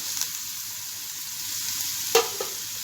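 Onion, garlic and green chili fry in a pan with a soft, steady sizzle, broken by a couple of brief louder stirring scrapes.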